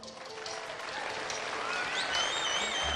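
Studio audience applause on a Pakistani game show, a steady wash of clapping that fills the whole stretch at moderate level, with a few faint tonal sounds above it.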